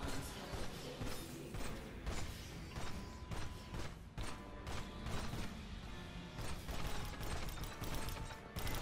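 Bolt-action turrets fire in the video game Aliens: Fireteam Elite, producing a dense, loud run of clanking mechanical shots and ratcheting impacts with no talk.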